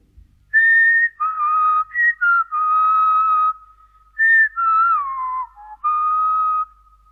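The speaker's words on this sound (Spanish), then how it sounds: "Otro silbaba una cancioncilla." A person whistling a little tune in a children's fairy tale recording: clear, close melodic whistled phrases with short pauses between them, solo and with no talk.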